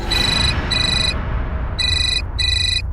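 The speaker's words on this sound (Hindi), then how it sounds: "तुम्हारा फोन बज रहा है।" A phone ringtone plays in two bursts of bright, repeating electronic tones with a short pause between, over a low steady background hum.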